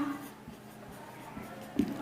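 Pen or pencil scratching on paper while a simple-interest formula is written by hand, faint, soft strokes with a few louder scrapes near the end, close and quiet.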